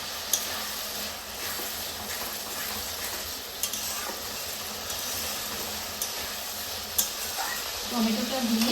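Chopped tomato frying in curry masala for a light chicken curry with potatoes, a steady sizzle punctuated by sharp clinks and scrapes of a spatula against the pan.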